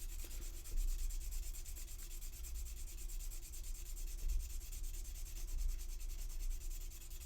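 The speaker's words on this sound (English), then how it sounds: "There's a little bit of a thing right there, so sanding that smooth." Sandpaper rubs back and forth on a resin model kit's mouth area to smooth it, a quiet, close, continuous scratchy rasp with gentle rhythmic strokes.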